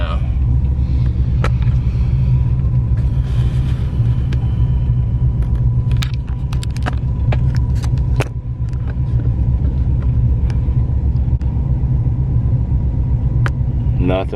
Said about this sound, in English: Nothing but old cars besides that new car right there.